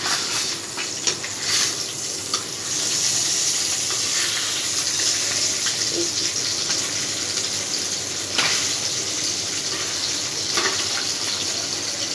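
Singi fish frying in a pan, a steady bright sizzle filling the whole stretch with a few clinks and scraping stirs, no talking.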